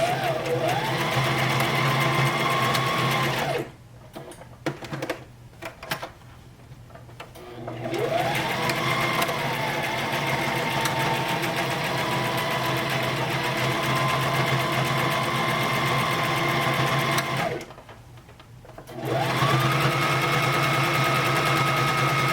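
Sewing machine stitching and reinforcing a strap on an owl stuffy purse, running in long steady whirring bursts with short pauses between passes.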